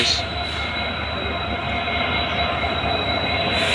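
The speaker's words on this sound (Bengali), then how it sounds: "ধীরে ধীরে কিন্তু এগিয়ে যাচ্ছে সেই ট্রেন" A train rolls slowly through Bamanhat railway station, giving a steady, loud rumble of wheels and carriages with a faint squeal, continuous from start to end and without any voices.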